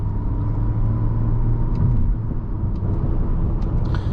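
A 2021 Nissan Altima SR AWD with a CVT settles after a paddle upshift, its engine a steady low rumble heard from inside the cabin, with a slight drop in pitch and no talking.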